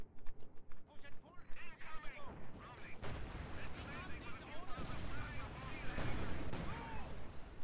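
Anti-tank gun firing on a Panzer IV in Company of Heroes 2, with dense, overlapping battle noise of booming shots and explosions building steadily over several seconds.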